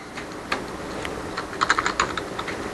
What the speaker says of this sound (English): I go and I start typing in P H P